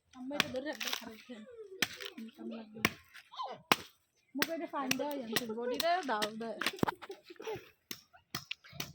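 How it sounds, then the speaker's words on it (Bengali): Several sharp, hard cracks of a coconut being broken open, scattered among lively chatter from adults and children nearby. "নারকেল ভাঙা হচ্ছে"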